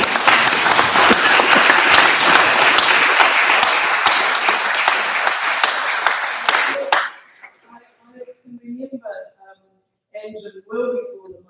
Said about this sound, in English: I think deserves another round of applause